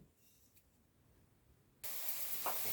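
Chopped onion in a spoonful of vegetable oil begins to sizzle in a frying pan, a sudden loud, steady hiss that starts partway through after near silence.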